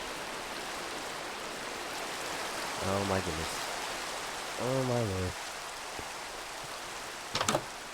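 Steady rain hisses in the Minecraft video game, a constant broadband patter throughout, while someone speaks a few short exclamations over it.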